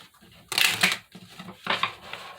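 Two brief rustling bursts of tarot cards being shuffled, close up, with a soft low murmur in between.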